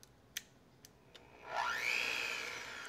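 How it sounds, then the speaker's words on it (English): Vanilla being mixed into coconut maple creme: a few light knocks, then a motor-like whir spins up, rising in pitch and holding steady and fairly loud until the end. "And now all I have to do is mix it"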